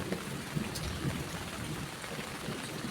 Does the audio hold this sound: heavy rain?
yes